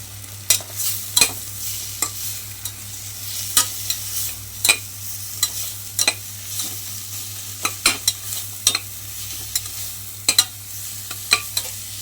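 Grated coconut and spices are stirred in a pan with a spatula, sharp repeated scraping knocks at an irregular pace over a low steady sizzle, close and distinct, with no talking.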